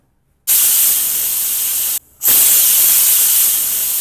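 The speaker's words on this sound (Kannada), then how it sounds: "2 ವಿಜಿಲ್ ಆದಮೇಲೆ ಬಿರಿಯಾನಿ ರೆಡಿ ಇರುತ್ತೆ." A pressure cooker cooking pepper chicken biryani lets off steam in two loud, sustained hissing bursts separated by a brief gap, close and alone with no talk.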